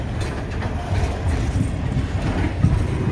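A freight train loaded with log cars rolls south through snow with a snowplow, a steady loud low rumble and rolling wheel noise throughout with no talk.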